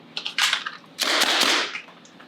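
A MILSIG M79 blaster fed from a tank of air fires twice in quick succession, each a sharp close pneumatic pop with a brief hissing tail, the second shot longer.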